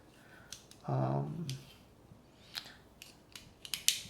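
Small metallic clicks and snips from a pair of gunked-up, slightly rusty scissors being worked open, scattered and close, with a brief murmur of voice early on.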